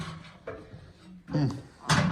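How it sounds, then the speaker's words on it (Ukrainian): The small door of a homemade barrel wood-burning stove is opened with a few close metallic scrapes and clanks, the loudest near the end. "дверка я відкрию таку трошки"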